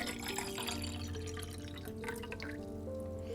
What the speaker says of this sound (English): And I think I'm already gonna pour here.